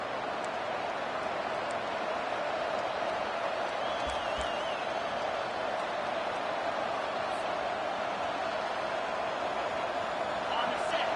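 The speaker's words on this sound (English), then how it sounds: "Decibels rising as the crowd gets behind this defense on third down." Stadium crowd roaring in a college football video game on a defensive third down, a dense sustained wash of cheering noise throughout, with a commentator's voice faintly under it.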